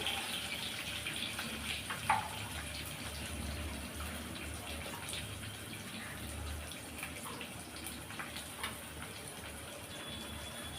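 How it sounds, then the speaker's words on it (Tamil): Four or five dried red chillies fry in a pan for Chettinad fish curry, making a steady, faint sizzle with a few small pops, with no talking. "ஒரு நாலஞ்சு வரமிளகாய் சேர்த்துக்கிறேன் நீங்கள் காரத்துக்கு தகுந்த மாதிரி சேர்த்துக்கலாம் இது நல்லா வறுபடட்டும்"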